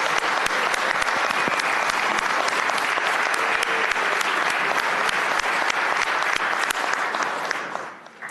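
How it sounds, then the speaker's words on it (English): Lawmakers in a state House chamber give a warm round of applause, a sustained burst of many hands clapping in a large room that stays steady for several seconds before quickly dying away. "So I asked the House to give them a warm round of applause."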